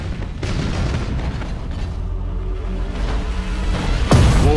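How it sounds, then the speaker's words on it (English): An enemy starship explodes in the space battle game Battlefleet Gothic: Armada, loud booming rumble sustained throughout, with a sharp burst near the end. "We should keep our distance from the enemy ship, sir. It will soon explode."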